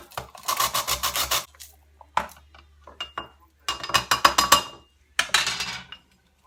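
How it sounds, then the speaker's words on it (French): An alum stone grated by hand in several quick bursts of rough, rasping strokes, each burst a rapid series of scrapes separated by short pauses and light clinks, close and clear, without talk. "je vais encore râper la pierre d'Alain"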